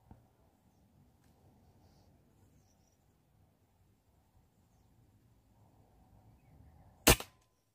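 A single sharp gunshot cracks out near the end during a bird hunt in scrubland, loud and abrupt after several seconds of near-quiet.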